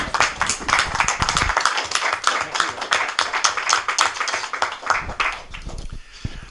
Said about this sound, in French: Je crois que ça mérite un applaudissement.